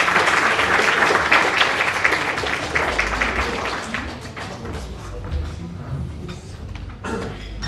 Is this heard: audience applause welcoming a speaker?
yes